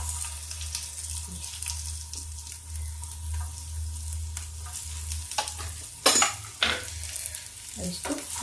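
Chopped onions sizzle in hot oil for a tadka for lauki dal, a steady close frying hiss with occasional clinks and scrapes of stirring, louder near the end.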